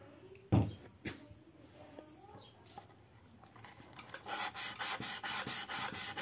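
A wood chisel is sharpened on a finer grit stone: a few scattered scrapes and knocks at first, then a rhythmic back-and-forth rasping of steel on stone, close and moderately loud.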